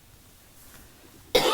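A single sharp cough bursts out loudly and close after near silence, during a phone-in radio programme about government procurement and bidding.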